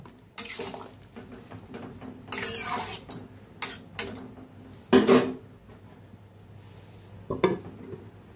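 Dried loitta fish being stirred in a pan, with scattered metallic scrapes and clanks of a spoon against the cookware and a louder clatter as a lid goes on, close up and fairly quiet between knocks.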